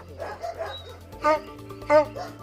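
A dog at a rescue farm gives two distinct, fairly close barks, spaced about half a second apart, while a person talks.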